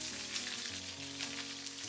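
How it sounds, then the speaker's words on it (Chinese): Chicken sizzles and crackles steadily in oil in a hot pan, a continuous close frying hiss with a faint hum underneath. "再把鸡肉下锅"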